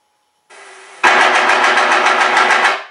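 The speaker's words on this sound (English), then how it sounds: "Then I can activate the gun sound." A sound mod on a 1700mm FMS P-51 Mustang RC plane plays simulated machine-gun fire: a low hum, then a loud rapid burst of shots lasting about two seconds before fading.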